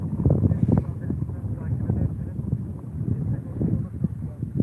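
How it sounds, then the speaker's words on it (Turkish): Strong wind buffets the microphone at a carp fishing spot beside a parked car, a rough low-frequency rumble in uneven gusts throughout, loud and close. "Çok rüzgar başladı ya."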